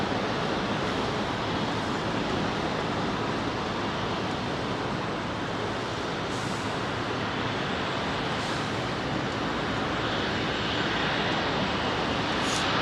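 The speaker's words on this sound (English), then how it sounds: "Oh, it was a United jet." A United Boeing 777 takes off from Heathrow runway 27R, heard as a steady, broad jet roar at a distance, continuous and even throughout with no talking.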